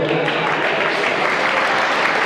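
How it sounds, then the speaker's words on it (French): Warm, continuous applause from a gala audience for a magician, steady and fairly close, with some voices mixed in under the clapping. "on peut applaudir encore Gérard Belfior"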